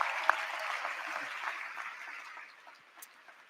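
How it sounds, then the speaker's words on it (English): Graduation crowd at Mead High School's 2025 ceremony applauds its teachers, a steady wash of clapping from a large, somewhat distant audience that gradually thins and fades toward the end. "please applaud all your teachers who help make it happen"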